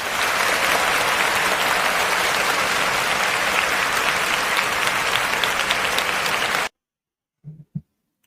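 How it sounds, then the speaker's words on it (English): An audience gives a sustained round of applause, dense and even clapping that stops abruptly, followed by a few faint knocks. "Let's give him a round of applause"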